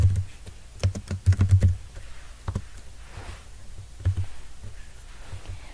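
Clicks of a computer keyboard as someone fills in an online construction canopy permit form: light, irregular keystrokes in short bursts, close and fairly quiet, with no talking.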